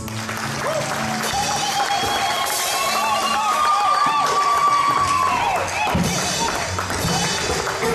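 A congregation applauds the Lord at a pastors' ordination ceremony, a sustained, loud wash of clapping from a large crowd with a long held musical tone and voices over it.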